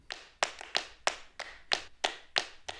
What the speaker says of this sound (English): an addictive drum clap